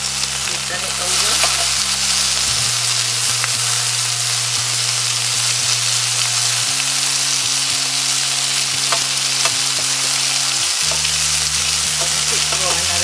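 Chicken satay sizzles and spits in a hot pan, a steady, loud frying hiss that runs without a break, with a low humming drone beneath it and no voices.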